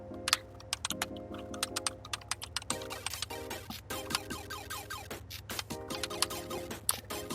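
Irregular, close clacking of a computer keyboard typed hunt-and-peck style, with uneven bursts and short pauses between keystrokes over a low steady background hum.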